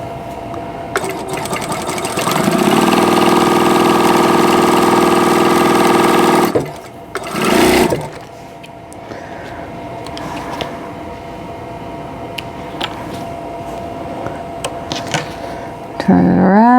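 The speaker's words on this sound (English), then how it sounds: "I'm sewing right on the line." A sewing machine stitches quilt block pieces in a loud, steady whirring run of about six seconds, followed by a short second burst and quieter handling sounds.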